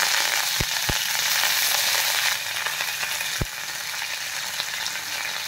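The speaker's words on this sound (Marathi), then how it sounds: "आणि त्यानंतर आपण कढीपत्ता टाकूया।" Curry leaves hit hot oil in a tempering for Gujarati kadhi, a loud, even crackling sizzle close up, with a few sharp pops.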